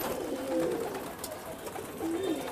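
Faint pigeon coos rise twice from a flock of breeding and flying birds gathered at feeding time, soft and somewhat distant against a hissy background.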